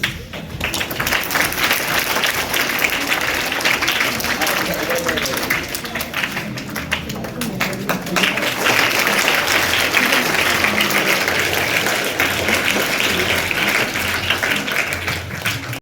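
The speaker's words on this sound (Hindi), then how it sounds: "आप सब लोग मिलकर तालियां बजाइए।" Audience applause at a student placement and scholarship ceremony, a steady, dense crowd of clapping hands sustained for about sixteen seconds with voices murmuring underneath.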